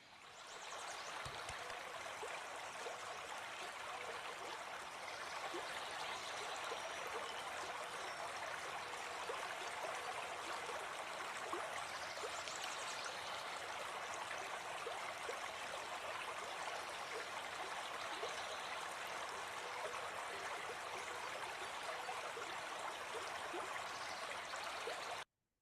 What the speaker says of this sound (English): you just got 30 seconds of the river, and hopefully you can hear it as well